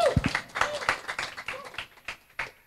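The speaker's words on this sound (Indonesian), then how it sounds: "Tepuk tangan untuk kita semua" A small group clapping in short, scattered bursts at an Indonesian youth gathering, fairly faint with an uneven, thinning rhythm.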